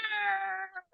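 A cat gives one clear, drawn-out meow with a whiny tone that trails off, followed by a short faint chirp, close and alone.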